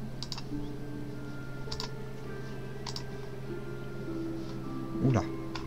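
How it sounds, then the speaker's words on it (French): A computer keyboard clicks in sparse, separate keystrokes at a moderate distance, each tap short and crisp, over a steady electrical hum, while someone speaks French throughout. "Excusez-moi pour les bruits de clavier."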